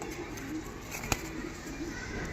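A pair of pigeons, a Kalanka male and a white female, coo softly beneath a steady wash of broadband background noise, broken once by a single sharp click.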